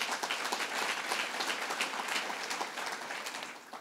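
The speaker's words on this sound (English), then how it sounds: "Let's give him a round of applause" Audience applause rises in a large hall at a Business Council of New York State annual meeting, a soft, distant, steady wash of many hands that tapers off toward the end.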